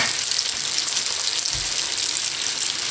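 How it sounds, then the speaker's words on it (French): Chinese spring rolls fry in a hot oil bath, giving a loud, dense, continuous sizzle and crackle heard close up without pause. "je vais les plonger dans un bain d'huile chaud"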